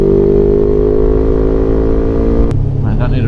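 Suzuki GS500 naked motorcycle engine droning loudly and steadily in close wind-buffeted riding, pitch holding then shifting near the end as it pulls on.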